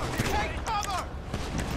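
Gunfire from a police shootout in GTA V Online on PS4, a dense burst of shots mixed with game effects under steady talk, fairly loud throughout.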